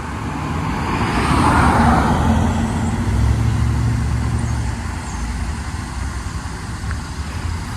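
A car passing on a road outdoors, a loud broad rush that swells as it nears and slowly fades, with the low rumble of traffic underneath.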